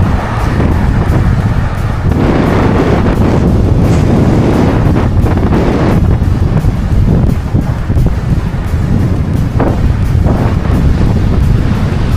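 Strong wind pounds the microphone with loud, continuous rumbling gusts, rising and falling without pause; no one speaks.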